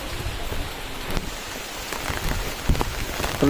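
Rain falls during a trek in the hills of Dima Hasao, Assam, a steady patter of drops with a few louder knocks and splashes nearby, no voices.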